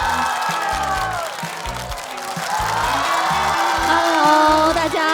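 An audience applauds to welcome a comedian onto a stand-up stage. The clapping is sustained throughout, over loud rhythmic music with a heavy beat, and swells slightly toward the end.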